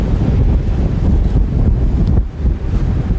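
Hot Sahel wind beating against the walls of an atomic power station, a loud continuous roar of gusts buffeting the microphone without pause.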